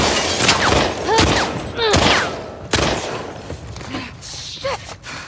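Gunshots crack in quick succession in The Last of Us Part II, several sharp reports close together, mixed with shouting voices and thuds of a fight.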